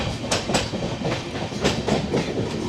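A train on the Araku mountain railway rolling along, with a rhythmic clickety-clack of wheels over rail joints and the rumble of the carriages, close and steady without talk.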